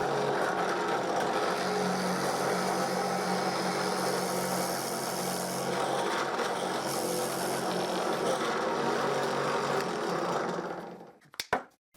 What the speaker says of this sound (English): I turn the piece, and I drill another dowel hole.